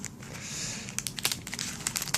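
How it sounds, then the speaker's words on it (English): A plastic bag of pieces from a LEGO-style knockoff set is pulled open, soft crinkling building into sharp, irregular crackles and rustles, close and fairly quiet with no talking. "I'm actually going to try to open the bag without doing a jump cut this time"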